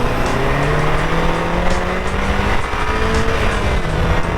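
A Mk6 Volkswagen Golf R engine with the stock intake is revved up and down, its pitch climbing and falling in smooth sweeps; close and loud, with no voices.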